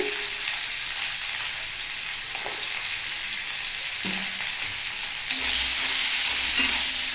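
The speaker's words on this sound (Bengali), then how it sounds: "আর এর মধ্যে দিচ্ছি একটু পেঁয়াজ পেঁয়াজ আর ফুলকপিটাকে ভেজে নিই" Onion and cauliflower frying in oil, giving a steady, bright sizzle with occasional stirring knocks against the pan. The frying is close and fills the whole clip, and no one speaks.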